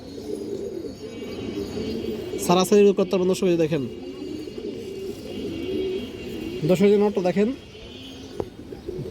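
High flyer pigeons with cream-coloured eyes coo in a pigeon market, low rolling calls running steadily beneath someone talking at length, with two louder bursts of speech over them.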